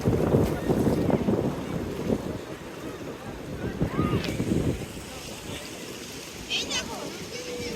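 Sea waves rolling in at Cox's Bazar beach on a rising tide, a steady wash of surf blended with wind rumble on the microphone, with voices and a child's call faintly over it.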